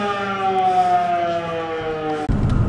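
A warning siren sounds in a coastal town, one loud, steady wailing tone held for about two seconds before cutting off abruptly into rough wind or road noise.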